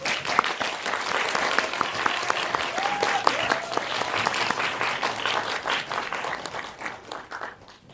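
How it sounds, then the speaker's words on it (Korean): An audience at an indie film talk event for the Korean film Bamchigi claps warmly to welcome the director and cast, a steady, sustained round of applause from a full room that tapers off near the end. "뜨거운 박수 환영 부탁드릴게요."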